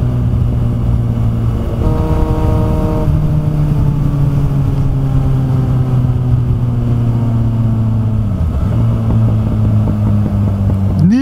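A car's loud exhaust, running without a dB killer, drones close and steady while moving, its engine pitch climbing slowly then dipping sharply once before rising again, with no one talking.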